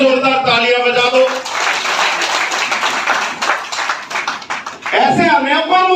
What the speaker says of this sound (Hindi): अगर हट गया तो जोरदार तालियां बजा दो